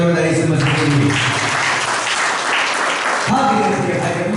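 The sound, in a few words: congregation applauding loudly for Jesus Christ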